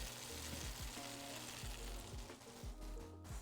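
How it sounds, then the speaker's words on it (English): Feta and spinach stuffed pork loin sizzles steadily in a hot pan, a continuous close frying hiss with no talking. "Listen to this goodness sizzling"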